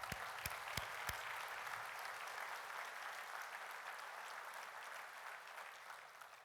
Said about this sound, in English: Give LA DWP a round of applause.